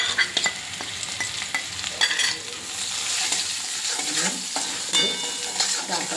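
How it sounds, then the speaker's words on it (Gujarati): Ginger and chili paste sizzles steadily in a hot pan for Kathiyawadi vagharelo rotlo while a utensil stirs and scrapes, the close frying hiss continuous throughout with irregular stirring knocks. "હવે આપણે આની અંદર આદુ અને મરચાંની પેસ્ટ એડ કરીશું"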